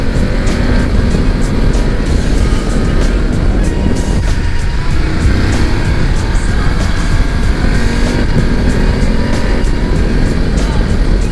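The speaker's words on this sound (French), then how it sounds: "c'est agréable de pouvoir conduire cette bécane au bord de mer comme ça" A BMW F750 GS motorcycle rides along the seaside coast near Lisbon, with steady, loud engine and wind roar running continuously throughout and no clear breaks.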